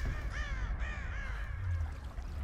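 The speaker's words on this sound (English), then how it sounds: "It's a lot of crows." Crows caw in a short burst of two or three harsh calls in Rise of the Tomb Raider, moderately faint over a steady low ambient rumble, with no talking.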